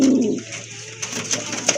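A pair of pink-beaked Lotan pigeons coo close by in a low, soft call at the start, followed by faint shuffling and small sounds against a quiet background.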